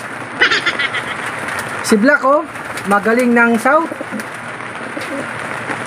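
Birds call in a few loud, rough, honking bursts close by, while someone talks over them.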